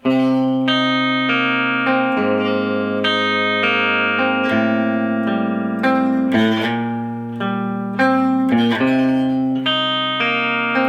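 An electric guitar plays a riff at a slow tempo: a loud, distorted, sustained chugging pattern of chords and notes with occasional slides, no voices.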